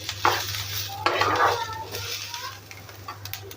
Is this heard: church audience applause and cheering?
no